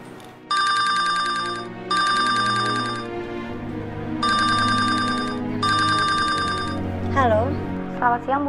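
A telephone rings in repeated electronic trilling bursts, loud and close, during an indoor scene at a hospital, with low background tones underneath and a few rising chirps near the end.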